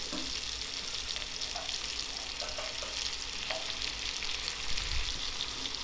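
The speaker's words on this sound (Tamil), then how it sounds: "அப்படியே திருப்பி திருப்பி போட்டு 2 பக்கமும் நல்லா பொன்னிறமாக வறுத்து எடுத்துக்கணும்" Chicken pieces for shawarma fry in oil in an iron pan, turned to brown both sides, giving a steady, close crackling sizzle that holds for the whole stretch, with a few faint clinks and no talking.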